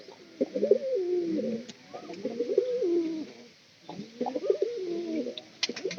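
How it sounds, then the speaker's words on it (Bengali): Pigeons coo inside a loft, with throaty, warbling phrases repeated in several bursts across the clip. The calls are fairly close and clear, and no one speaks. "আমাদের এই কবুতর কিন্তু সব কবুতরের ডাক কিন্তু অনেক বেশি।"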